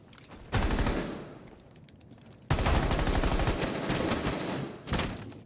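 Rapid automatic gunfire from a first-person shooter video game, fired in two loud sustained bursts separated by a quieter gap, with a short final burst near the end.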